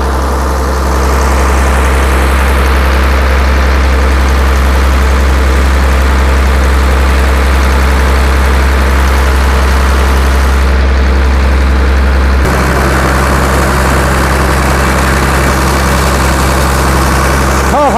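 A large water pump engine on a 16-inch pipe, draining water, runs at full throttle with a loud, steady, deep drone that holds unbroken throughout and shifts slightly in tone near the end.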